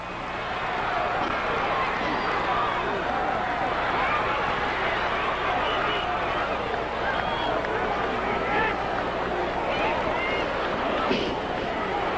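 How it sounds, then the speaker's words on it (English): A crowd at a 1980 Memphis pro wrestling show cheers and roars without a break. The noise is loud, packed and echoing, with shouts rising out of the steady din. "Crowd loving it."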